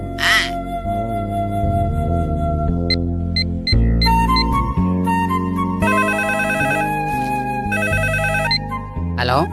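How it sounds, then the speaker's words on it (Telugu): A telephone rings with a loud, continuous electronic ringtone, a busy melodic pattern of bright tones that repeats steadily throughout. "అబ్బా, ఈ ఫోన్ చంపేస్తున్నా."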